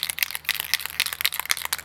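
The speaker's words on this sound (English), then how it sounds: "I'm going to give the can a good shake" Rapid rattling of a PlastiKote spray paint can being shaken, the mixing ball clacking in quick, uneven bursts, close and fairly quiet.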